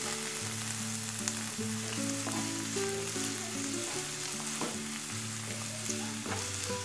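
Chopped onions frying in a pan, about two large ones being stirred: a steady, close sizzle with some crackle, over a background of soft melodic music and no talk.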